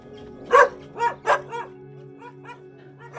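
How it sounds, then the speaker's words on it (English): Dogs tied up behind a rural house with no fence bark and yip in a quick series of loud, close barks that trail off into softer yelps, with no talking. "Amidst the barking dogs"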